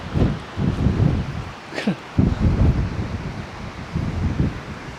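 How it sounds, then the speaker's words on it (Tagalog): Strong wind gusting through pine trees in the mountains of Nueva Vizcaya, with surging roaring bursts and microphone buffeting that rise and fall in irregular waves, loud and close. "ganito pala dito kapag inaabot ng malakas na hangin."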